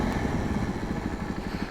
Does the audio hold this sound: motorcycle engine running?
yes